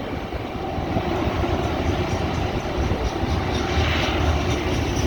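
GE Evolution series diesel locomotives haul a loaded coal train on the B&O Old Mainline at Mt Airy, Maryland, with a steady loud engine drone and whining turbochargers rumbling past nearby.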